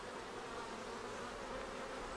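Honeybees swarm around an open hive during a hive split, a dense, steady buzz that fills the space close by with no break.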